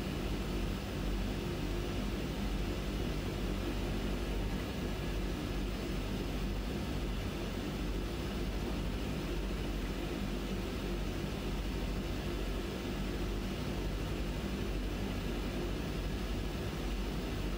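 Engines of an Aerosoft Twin Otter seaplane in a flight simulator game, a constant loud droning roar that holds unchanged throughout with no other sounds.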